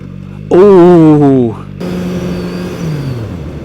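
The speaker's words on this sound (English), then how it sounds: "I'll try to go 50 kilometers per hour and then just stop as fast as possible" A QJMotor SRK921RR sport motorcycle revs hard on a street with a rising engine whine, then drops to a lower, steadier drone as it slows under hard braking.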